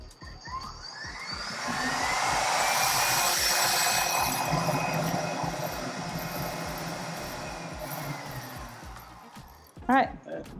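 An IKAWA home coffee roasting system runs steadily for several seconds, a loud, even whirring hum that swells and holds, ending with a brief click near the finish.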